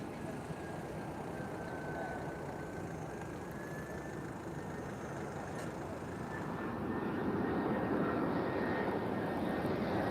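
An airliner on final approach into Lisbon airport drones steadily in the distance, a continuous broad engine roar with a faint whine that swells louder over the last few seconds as it nears.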